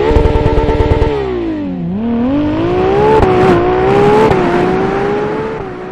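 Ferrari F80 hypercar with its 3-liter hybrid V6 revving hard: a rough idle burble gives way to a loud, rising and falling harmonic engine wail, dipping then climbing and holding high, close and alone.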